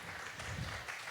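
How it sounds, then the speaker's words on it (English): A brief, steady wash of audience applause at a regional poetry slam final, fairly faint and continuous throughout with no distinct voices. "Round of applause for Christina."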